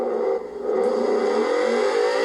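A V10 car engine in the racing game Forza Horizon 4 with an eight-speed sequential gearbox, heard as a low-rev drone that dips briefly and then climbs in a steady, rising whine.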